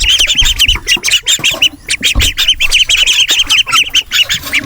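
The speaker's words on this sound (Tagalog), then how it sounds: "Ito na lang yung natira sa ating mga alagang Peking duck." Peking ducks on a small farm squawk and honk loudly, close by, in a rapid, overlapping, nearly continuous chorus.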